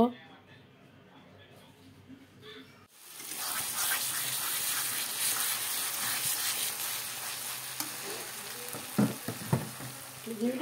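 Pasta with soy sauce and pasta spice sizzling in a pan while being stirred, a steady loud fry from about three seconds in after a quieter start, with a few sharp utensil scrapes near the end.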